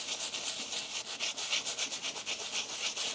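A brush scrubs cleaner over a Nike Panda Dunk sneaker with quick, rhythmic back-and-forth strokes, a close, soft hissing rub that repeats steadily without any talk.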